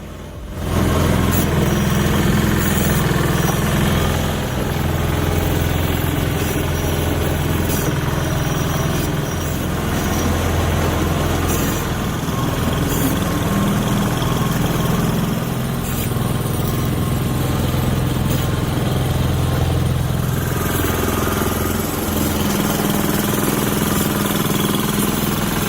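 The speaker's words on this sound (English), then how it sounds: "This wood splitter, made back in the 90s, still works like it's brand new" A 1990s engine-powered firewood splitter runs steadily, its motor droning loud and close with a rough, continuous chug and occasional knocks, without any talk.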